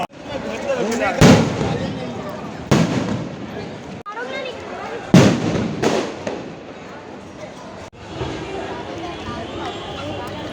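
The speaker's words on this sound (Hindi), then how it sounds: "अभी तो आतिशबाजी का" Several loud fireworks bursts crack and boom at irregular intervals during a Ravan Dahan burning at Vijaya Dashami, with crowd voices and chatter throughout.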